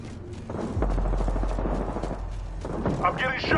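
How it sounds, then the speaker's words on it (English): Rapid bursts of gunfire during a shootout in the video game Apex Legends, dense and loud, with clustered shots and thumps under game voice lines. "Contact with hostile. Opening fire. Getting shot at."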